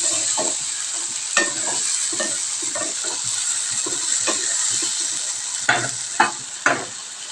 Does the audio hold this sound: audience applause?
no